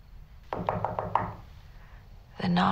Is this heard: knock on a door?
yes